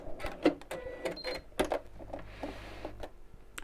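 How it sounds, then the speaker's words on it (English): A sewing machine stitches across the end of a seam on a child's backpack, giving a short motor hum with soft mechanical clicks and rustling fabric at close range, alone without voices. "Sew over the end to secure it."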